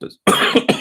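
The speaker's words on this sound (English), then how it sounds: "excuse me, I've still got a bit of a cough" A single man coughs close to the mic, one short harsh burst after a brief breath, then a second smaller cough.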